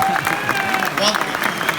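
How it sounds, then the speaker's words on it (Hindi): Audience applause at a testimonial gathering, brisk clapping from a crowd under a voice speaking over it, fairly close and continuous for a short stretch. "जोरदार तालियां।"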